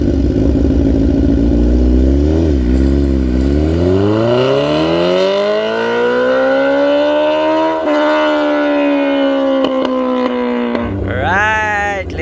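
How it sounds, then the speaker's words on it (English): Suzuki GSX-R1000 K6 sport motorcycle on a launch run, engine roaring loud and close as revs climb steadily through the gears with sharp pitch drops at each shift, ending in a quick rev blip. "Sean, have you ever launched this bike?"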